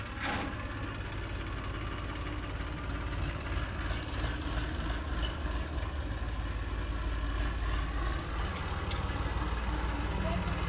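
A tractor engine idles steadily nearby, a low continuous rumble with a faint rattling throb that keeps on throughout.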